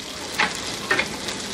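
Chicken, onion and garlic frying in a pan over medium-low heat, a soft steady sizzle with two brief louder spurts of crackle close by, no talking.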